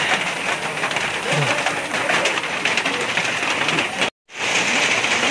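Rain falls at a rest stop on the trail up Mount Slamet, a steady close hiss of drops that fills the whole stretch and breaks off briefly just before the end.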